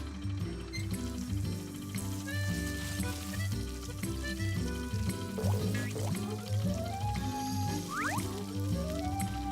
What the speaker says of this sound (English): Here's some water for Mr. Tree